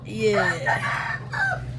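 A chicken calls loudly and close, giving a rising drawn-out clucking cry in two bursts over a steady low hum.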